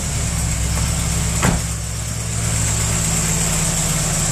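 A Volkswagen Golf or Corrado G60 engine idles steadily in a low, continuous drone, with one brief louder blip partway through and no talking over it.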